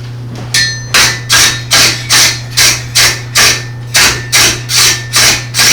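A blacksmith at a smithing event lightly hammers hot metal at a lower heat to smooth its surface, giving a steady run of about fourteen crisp, ringing blows at an even pace, close and loud over a low steady hum.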